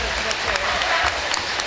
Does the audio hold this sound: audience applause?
yes